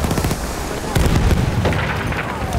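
A grenade blast in the World War I shooter Battlefield 1, a loud close booming explosion with crackling debris over dense battle noise, while voices call out beneath the din.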